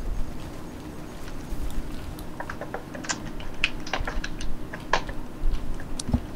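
Rapid computer keyboard typing during a Payday: The Heist game session, irregular clicky keystrokes in quick bursts over a low steady hum, close and fairly clear, with no talking.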